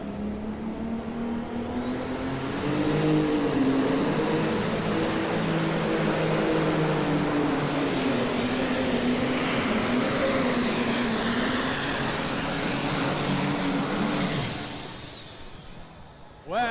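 The MX270 pulling tractor's engine at a farm machinery show climbs slowly in revs into a loud, steady high-pitched roar with a rising whine, holds there for several seconds, then winds down near the end.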